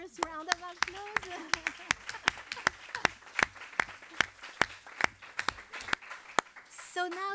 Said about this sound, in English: maybe they deserve a first round of applause.